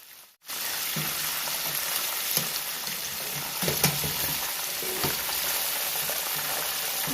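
Chicken wings deep frying in hot oil for Chinese takeout-style barbecue wings, a steady close, loud sizzle and crackle with occasional louder pops and stirring clinks, no talking.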